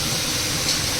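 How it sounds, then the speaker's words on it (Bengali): Onions frying in refined oil and ghee for chicken biryani give off a steady, even sizzling hiss that fills the whole moment, with no talking. "এই পেঁয়াজ ভাজার জন্য আমি রিফাইন্ড অয়েল আর 6-7 চামচ গাওয়া ঘি দিয়ে আমি ভাজছি"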